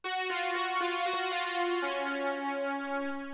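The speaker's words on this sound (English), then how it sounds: "I believe this is just a CS80 patch." A Yamaha CS-80 analog lead patch with poly unison spread and heavy chorus plays a string of short repeated notes that settle into a held tone, bright, wide and steady, with nothing else playing.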